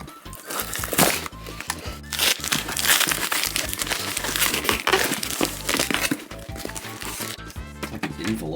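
Close plastic wrap crinkling and crumpling as a packaged Kirby figure is torn open by hand, steady rustling throughout with faint talk underneath.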